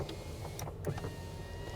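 Power windows on a 1995 Ford F-150 Flareside pickup whir steadily with a motor hum, ending in a soft thunk, heard close from inside the cab.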